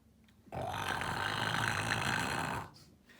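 A cartoon dog snoring while asleep under a bed, one long, loud rasping snore of about two seconds, close and alone.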